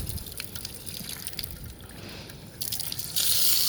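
Water splashes and trickles from an outdoor beach shower tap while sandy feet are rinsed, growing into a loud, steady hissing rush in the last second.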